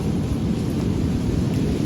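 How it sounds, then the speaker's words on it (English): A thunder sound effect in an audiobook reading of The Great Gatsby: a loud, continuous low rumble with a rain-like wash over it, heard alone without any voice. "Outside the wind was loud and there was a faint flow of thunder along the sound."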